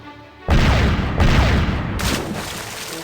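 Cannon fire in The Curse of Monkey Island video game: loud blasts start abruptly after a brief quiet lead-in, with two more heavy booming bursts following in quick succession and a sustained rumbling tail.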